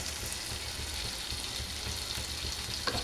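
Salt and chili powder frying in oil for an egg curry, a steady, dense sizzle with soft stirring scrapes and a small clink near the end, close and unbroken.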